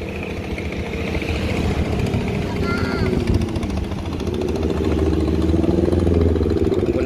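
Small outboard engine on a little river boat (klotok) crossing the Barito River, a steady mid-pitched droning run continuing throughout, near and fairly loud, with people talking over it.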